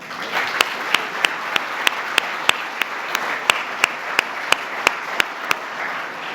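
A symposium audience applauds warmly after welcoming remarks, a steady wash of clapping with a distinct rhythmic beat of sharp claps about three per second.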